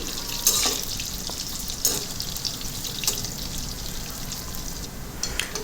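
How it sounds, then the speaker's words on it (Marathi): Soybeans frying in oil in a pan, with a steady hissing sizzle and occasional louder crackles and clinks from stirring, close by and without talking. "हे सोयाबीन आपल्याला एक गोल्डन रंग येईपर्यंत छान रीतीने फ्राय करून घ्यायचे"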